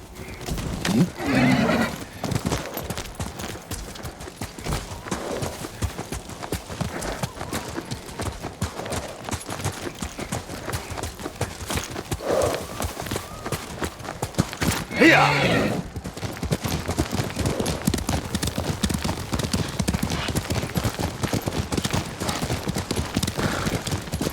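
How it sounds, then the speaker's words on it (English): A horse whinnies loudly over a steady rumble of galloping hooves, with scattered bursts of gunfire and battle noise in the Ghost of Tsushima game soundscape. "Horse!"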